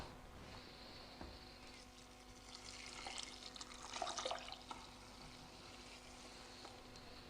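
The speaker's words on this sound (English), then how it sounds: "And then I'm going to add a litre of water." A litre of water pours into a saucepan for lentil soup, a faint continuous trickle and splash that briefly grows louder midway.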